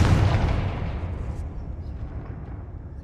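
A Confringo fire spell from the Hogwarts Legacy video game on PS5 detonates in a loud, deep, booming blast that rumbles and slowly fades over a few seconds.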